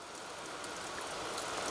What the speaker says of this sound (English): Rain is necessary for the taiga.